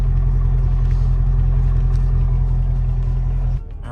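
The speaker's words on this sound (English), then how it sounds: "Yeah, listen to that idle. I really like this exhaust setup on this car." A car with an aftermarket exhaust idles nearby, giving a loud, steady low rumble that drops away near the end.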